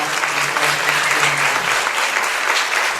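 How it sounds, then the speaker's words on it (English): Audience applause at a college Campus Country final Showtime, a steady, dense wash of clapping filling the room at full loudness throughout, with no talk over it. "So I'm going to give them a round of applause."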